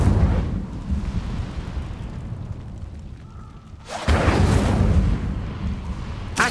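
Incendio fire spell cast in the video game Hogwarts Legacy, a roaring, rumbling burst of flame sustained for several seconds, easing briefly before a sharp, loud second blast near the end.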